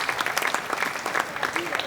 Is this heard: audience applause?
yes